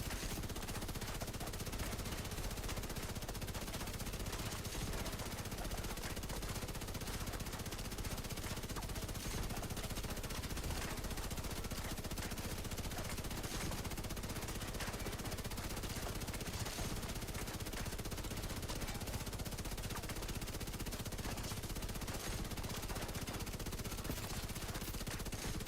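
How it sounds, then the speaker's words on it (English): The Bullet King LMG, a machine gun with infinite ammo in The Division 2, fires nonstop in a dense, unbroken stream of rapid shots. The rattle is steady and even from start to end, held at a moderate distance. "It's the Bullet King LMG. It's got infinite ammo."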